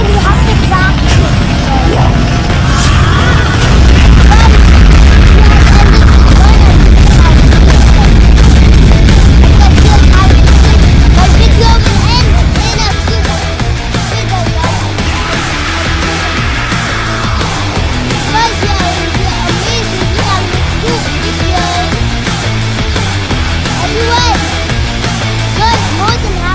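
A nuke explosion in the video game Car Crushers 2 produces a loud, sustained roaring rumble with a heavy low boom for several seconds, then a continuing dense crackling din.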